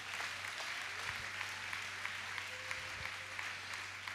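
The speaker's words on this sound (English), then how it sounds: "Clap your hands again because you believe it." A church congregation claps hands together in a sustained, dense wash of applause over a low steady hum, moderately distant and fairly quiet, with no speech over it.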